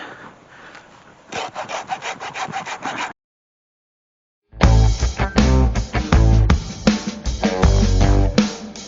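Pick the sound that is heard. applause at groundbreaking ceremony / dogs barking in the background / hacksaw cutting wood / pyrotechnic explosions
hacksaw cutting wood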